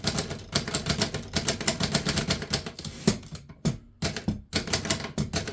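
Rapid typing on a 1935 Remington Rand Noiseless Model One typewriter, a dense run of close, soft key strikes with brief pauses between bursts and no speech.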